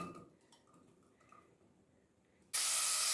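Onion hits hot oil in a pan with a sudden loud, steady sizzle after quiet kitchen ticking and faint clatter, the hiss continuing strongly to the end.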